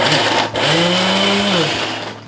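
A five-year-old mixer grinder grinding onions runs with a loud whirring motor hum, its pitch shifting as it spins up and settles, close by and unbroken.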